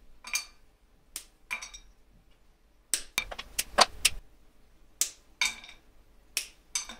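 Squares of chocolate snapped apart by hand for vegan cookie dough, a series of sharp, dry cracks and clicks in scattered bursts, close and fairly quiet, with no talking.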